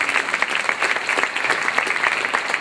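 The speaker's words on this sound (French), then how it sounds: "On peut l'applaudir très fort." Audience applause at a tenth-anniversary celebration event, dense sustained clapping from a sizable crowd throughout, loud and steady with no pauses.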